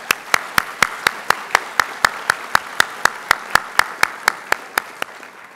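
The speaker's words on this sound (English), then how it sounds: "Yes, they deserve your applause too." An audience at a talk on sacred silence and science applauds, with clapping sharp and steady close by, building to a bright sustained burst that slowly thins toward the end.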